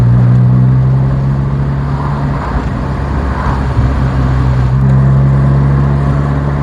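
A white Rover 416 SLI automatic car drives along with a steady low engine drone and road rumble, loud and continuous throughout, with no voices.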